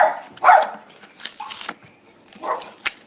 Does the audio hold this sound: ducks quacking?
no